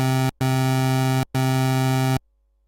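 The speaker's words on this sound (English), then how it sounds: "A variant of this waveform is a pulse wave" Pulse wave from a synthesizer oscillator, an asymmetrical variant of the square wave, sounding as two loud, even, sustained buzzy notes with a brief break between them and silence at the end.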